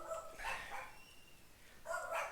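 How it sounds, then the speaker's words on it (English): Dogs bark in two short bursts, faint and somewhat distant, with a quiet gap between them and no talking. "Dogs are going nuts."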